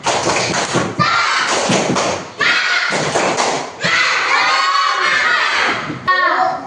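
Classroom children in an Indonesian religious-studies lesson perform a clapping chant, with loud bursts of rhythmic claps, taps and thumps alongside shouted chanting voices, close and energetic.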